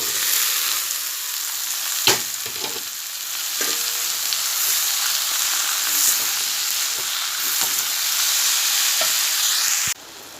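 Pointed gourd with onions sizzles steadily in hot oil, with occasional scrapes and knocks of a spatula as it is stirred, loud and continuous, ending abruptly.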